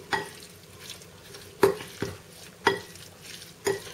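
Chicken being stirred with spices, including garam masala, in a bowl: a run of soft scraping strokes with about four sharper clacks spaced roughly a second apart, fairly close and moderately quiet, with no talk.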